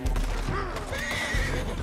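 A loud horse whinny in Red Dead Redemption 2 rises and falls over a couple of seconds, with hoof clops and a bit of background rumble.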